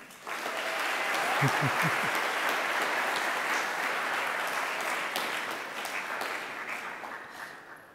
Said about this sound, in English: Please, let's give another round of applause for the Cincinnati Children's Hospital Medical Center interns.